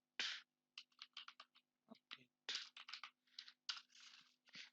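Quick bursts of keystrokes on a computer keyboard while a terminal command is entered on Ubuntu Linux, with close, crisp clicks in uneven clusters and short pauses.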